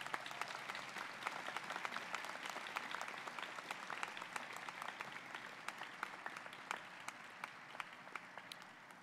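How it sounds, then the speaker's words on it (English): Sustained applause from a large audience at a university commencement, many hands clapping in a dense, even patter with a few sharper individual claps standing out, fairly distant. "Can we give them a round of applause?"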